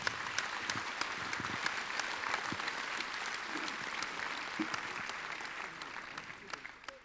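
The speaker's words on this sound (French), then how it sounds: "oui, on peut vous applaudir" Sustained applause from a seated audience at a business association's annual general meeting round table, dense steady clapping for about seven seconds that thins toward the end, with faint voices underneath.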